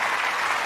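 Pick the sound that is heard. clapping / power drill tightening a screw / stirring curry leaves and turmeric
clapping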